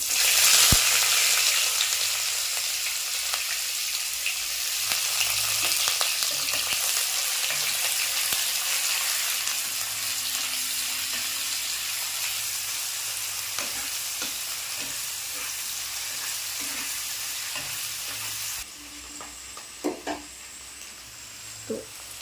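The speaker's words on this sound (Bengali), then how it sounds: "পেঁয়াজের ভেতর থেকে যে শাঁসটা বের করে রাখা ছিল ওইটা তেলের মধ্যে দিয়ে দেবো" Onion pulp fries in oil with a continuous, bright sizzle and light stirring scrapes. The sizzle runs unbroken for about eighteen seconds, then drops to a quieter hiss with a few utensil knocks, and no one speaks.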